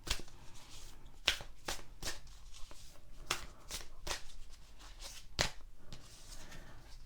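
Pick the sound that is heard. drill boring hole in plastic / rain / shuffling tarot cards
shuffling tarot cards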